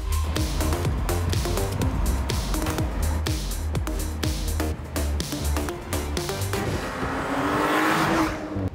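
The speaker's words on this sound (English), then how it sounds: "when you put your foot down, the S5 has a raspy exhaust note to add to that sporty feel" An Audi S5 Sportback accelerates hard with a loud, raspy exhaust, rapid crackling pops over a deep engine roar that swells toward the end.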